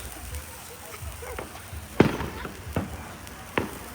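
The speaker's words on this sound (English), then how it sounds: "Fireworks is gonna start." Fireworks bursting outdoors at a family fireworks show, a few sharp separate pops and bangs at moderate distance, the loudest near the middle, over quiet background murmur.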